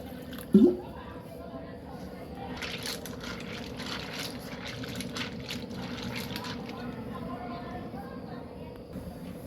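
Dry pasta being rinsed in water in a home kitchen while making a Gujarati pasta recipe: a steady low slosh and trickle of water after a brief clink, with a voice talking over it.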